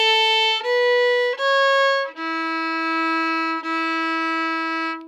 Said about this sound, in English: Now I'm going to play that same scale, but forward now.